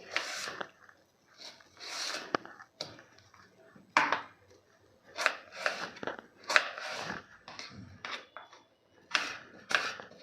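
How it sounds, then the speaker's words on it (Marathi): Knife chopping raw green mango into small pieces for chutney, a run of crisp irregular cuts on a board, close and clear, with brief pauses between bursts. "अशी कट करून घ्यायची आणि एकदम छोट्या छोट्या फोडी करून घ्यायच्या आहे"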